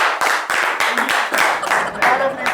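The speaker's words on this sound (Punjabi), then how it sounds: "ਤਾੜੀ ਮਾਰੋ ਯਾਰ" Several people clap their hands together in a live comedy stage show, with quick bursts of applause that rise and break off over a few seconds, fairly loud and close.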